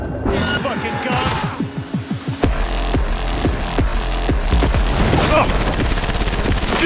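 Rapid, loud automatic gunfire from the video game Cyberpunk 2077 sounds as a burst of close shots, followed by dense combat noise with crashes and mechanical clatter.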